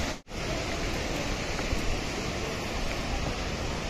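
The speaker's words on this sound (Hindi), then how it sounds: "पानी की सरसराहट आपके मन को मन मोह लेगी" Jogini Waterfall near Manali roars with a steady, even hiss of falling water. A brief dropout comes just at the start, then the rush continues unbroken with no voices.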